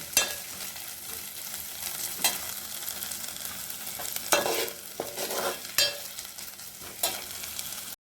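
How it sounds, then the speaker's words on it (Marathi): Onion with ginger and garlic sizzles in a hot pan as it is sautéed, with a steady crackle of frying and a few sharp scrapes and clanks of the spoon stirring it, close and alone. "कांदा व्यवस्थित परतून झालाय"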